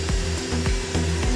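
A sanding machine with a hard pad works over the car body paint of a Ford BOSSXC, its steady motor hum pulsing in a regular rhythm, close and loud without speech.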